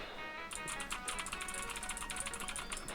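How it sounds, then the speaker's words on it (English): Rapid keyboard typing clatters close to a gaming mic, a steady run of crisp keystrokes after a brief quiet start, with no talking. "Why is the keyboard that loud?"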